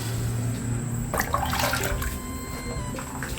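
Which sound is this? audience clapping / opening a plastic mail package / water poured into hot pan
water poured into hot pan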